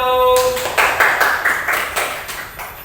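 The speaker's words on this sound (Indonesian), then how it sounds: "Tepuk tangan untuk kelompok 1." After a brief ringing tone, children in an elementary school classroom clap in a steady rhythm, about eight even claps, close and moderately loud with no talk over them.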